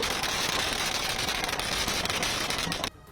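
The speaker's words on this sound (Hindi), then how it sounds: "पटाखे जलाकर खुशियां मनाई" Firecrackers bursting continuously during a crowded street celebration in Malegaon, a dense crackling barrage that cuts off abruptly near the end.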